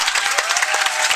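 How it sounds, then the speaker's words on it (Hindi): Loud, dense clapping from a crowd at a farewell ceremony for students, a close, continuous burst of many hands welcoming a guest. "जोरदार तालियों के साथ।"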